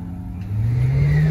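An off-road racing car engine revs up from a low idle into a rising, louder drone over about a second, heard up close with no talking.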